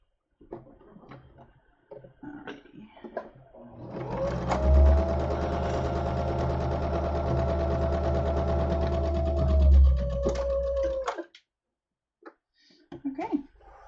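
A sewing machine stitches a dart on a summer tunic in one steady run of about seven seconds, with a soft motor hum and rapid needle chatter. Brief handling clicks and rustles come before and after the run.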